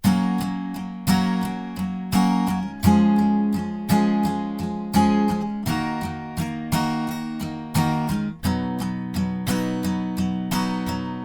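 Close, bright acoustic guitar strumming with a capo moves through a short chord progression with an even pulse, ringing strings and no talking.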